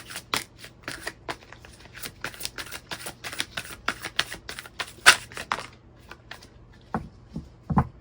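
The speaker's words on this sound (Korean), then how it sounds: "마지막으로 카드 하나만 더 뽑아볼게요" Tarot cards are shuffled and a card is drawn from the deck, a close run of quick crisp riffling flicks that thins into a few scattered taps and soft slides.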